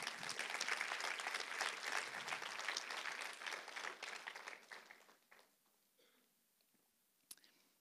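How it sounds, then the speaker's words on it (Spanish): A church congregation breaks into applause for the Lord, a dense clapping crowd that is loud at first, then thins and fades out after about five seconds, leaving near silence with a stray faint clap. "Un aplauso al Señor."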